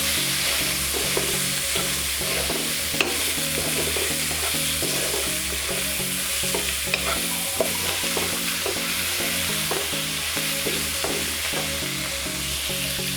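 Sweet corn sautéing in a pan for a coconut milk and spinach dish: a constant loud sizzle with a rhythmic run of stirring scrapes, close and steady, no talk.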